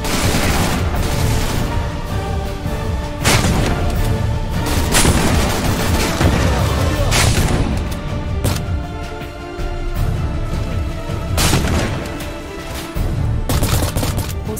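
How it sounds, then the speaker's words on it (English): Heavy gunfire and explosions in the PC shooter Beyond Enemy Lines 2, with loud bursts of rifle fire and repeated booming blasts layered densely over about fifteen seconds of continuous combat noise. "Guns blazing."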